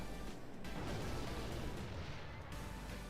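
A rocket spell exploding in Clash Royale, a loud, dense blast of rumbling noise filling the whole span, with a brief dip before it continues and fades slightly near the end.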